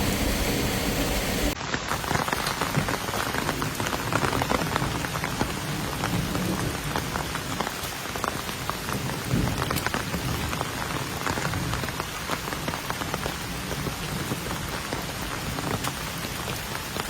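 Rain pattering steadily on foliage and ground along a hiking trail in Massachusetts, a dense continuous hiss of drops with occasional heavier taps, close and even throughout without voices.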